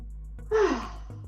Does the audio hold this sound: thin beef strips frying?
no